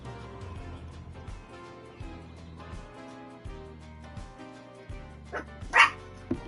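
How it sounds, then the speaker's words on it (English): Small dogs barking and yipping in the Cities Skylines city-building game on console, a run of short repeated yaps over soft background music, fairly quiet and ending with a louder bark. "Whoa, chill out there, little dogs."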